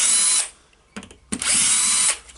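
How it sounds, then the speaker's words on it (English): A Makita HR2450FT rotary hammer being taken apart, with a power driver unscrewing screws: two loud, close whirring bursts separated by a short gap with faint handling clicks, no talking. "Don't be lazy and unscrew these two screws to take it out."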